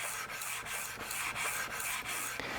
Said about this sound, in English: flip your sanding block around and sand.